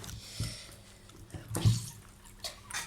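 Orange juice runs from a fruit juicer in a thin, splashing stream, a close, faint liquid trickle with a few louder gushes and drips, no talking over it.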